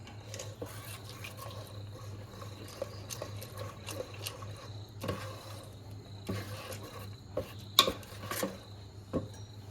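Ground batter for Pesaha appam gets stirred in a vessel, making soft scraping and occasional light clinks of the spoon against the pot, faint and irregular in a quiet kitchen.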